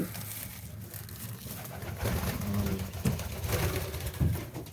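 A white Dewlop homer pigeon coos in a loft, low, repeated rolling calls that grow a little louder partway through, close by, with no talking.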